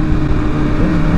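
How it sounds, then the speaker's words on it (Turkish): Honda CBR1000RR motorcycle exhaust popping and rumbling up close, a dense, steady low roar that fills the whole short moment with no voices over it. "Egzoz da güzel ateş ediyor ya bunu."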